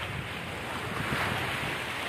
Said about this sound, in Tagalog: Sa tabing dagat tayo ngayon